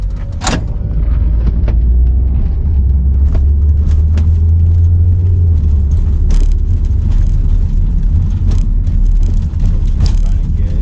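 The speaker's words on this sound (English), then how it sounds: "Take it for a test drive and see how she does." A Ford car out on a test drive after a repair, with a steady loud road rumble and engine hum throughout and occasional sharp knocks and rattles from the cabin.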